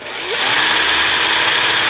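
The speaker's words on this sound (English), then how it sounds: "Next I take a 6mm drill bit" A power drill with a 6mm bit starts up and runs steadily at high speed, loud and close, a continuous whine throughout, cutting a countersink over a 3mm hole.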